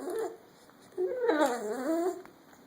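A dog whimpers and whines in rising, pleading tones, a short whine followed by a longer drawn-out one, close by.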